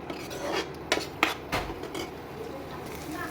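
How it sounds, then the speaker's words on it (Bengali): Boiled eggs and potatoes being mashed with spices in a pan, giving a few scraping, clinking utensil strokes against the pan, close and fairly quiet, with no voices. "এটা ভালো করে ম্যাশ করতে হবে বন্ধুরা ডিমগুলো, যাতে ডিমের ভেতরে মশলাগুলো ভালো করে ঢুকে যায়"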